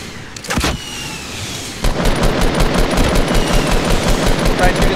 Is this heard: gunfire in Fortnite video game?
yes